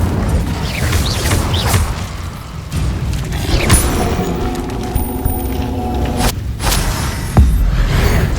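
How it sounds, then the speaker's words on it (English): An Incendio fire spell cast in Hogwarts Legacy, giving a series of whooshing bursts and deep booms with mechanical clunks and creaks, fairly loud and close, ending with a sharp thump. "Incendio."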